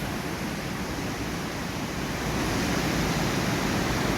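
Water pouring down a waterfall in a canyon, a loud, continuous broadband roar that grows slightly stronger midway, heard close and alone without voices.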